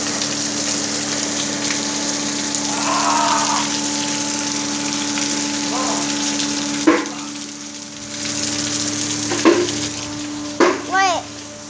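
Rain falls in a steady, loud hiss throughout, with a few brief voices and sounds breaking through near the end.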